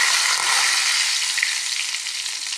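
Mustard seeds, garlic and curry leaves sizzle in hot oil for a North Karnataka tomato chutney, a continuous bright frying hiss, close and fairly loud with no talking.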